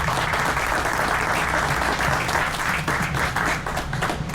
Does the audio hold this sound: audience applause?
yes